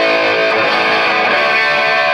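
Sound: Gibson Les Paul Gold Top guitar played with reverb

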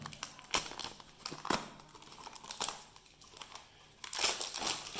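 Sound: tearing open low-quality toilet paper in Ethiopia

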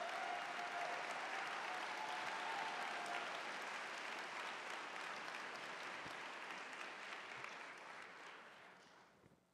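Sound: audience applause at convocation

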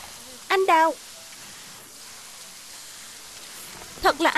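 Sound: rain falling

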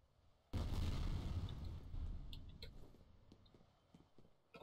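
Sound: grenade explosion in video game F.E.A.R. Extraction Point

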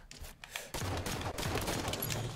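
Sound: gunfire in video game Halo 5 SWAT

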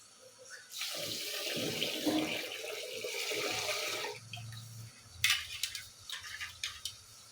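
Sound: rinsing rice in water

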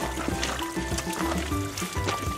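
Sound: water trickling in a mountain stream

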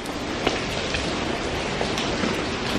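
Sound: torrential downpour rain

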